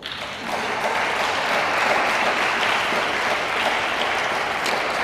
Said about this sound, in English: And we pause here to applaud.